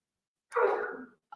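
A single short sneeze in a workshop room, close and clear, followed by silence.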